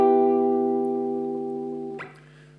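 Guitar chords from a song lesson: a single sustained chord rings alone, then near the end a fresh strum or pluck brings in brighter new notes as the harmony changes.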